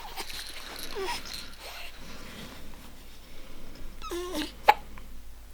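A newborn baby around one month old hiccups a few times, short soft catches against a quiet room, with faint toy or clothing rustle in between.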